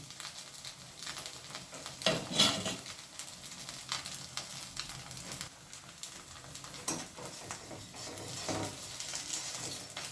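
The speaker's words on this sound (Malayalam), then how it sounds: "ഓരോ സ്പൂണ് നല്ലെണ്ണയിൽ ഈ അപ്പം ഉണ്ടാക്കിയിട്ട് മുരിച്ചെടുക്കുക നന്നായിട്ട് മുരിയട്ടെ" Fenugreek appam frying crisp in sesame oil, a quiet irregular sizzle with crackles and occasional clinks of a spoon or pan, no voices.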